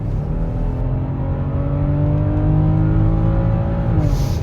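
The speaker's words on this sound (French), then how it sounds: "je vous propose d'écouter un peu la sonorité, la mélodie de ce moteur 6 cylindres en ligne B58." The B58 inline six-cylinder engine of a BMW X5 45e hybrid SUV revs steadily and loudly up close, its tone climbing smoothly over several seconds before easing off, with no talking.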